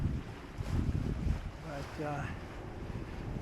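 Sailboat Kudos moving at about five knots over a calm ocean with a gentle swell, steady wind rush and water noise throughout, with brief talk partway through.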